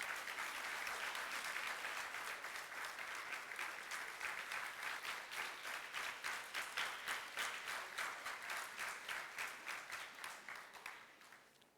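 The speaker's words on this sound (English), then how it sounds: "Big round of applause." A crowd at a school event applauds with dense, lively clapping that gradually thins into a slower, fading patter toward the end.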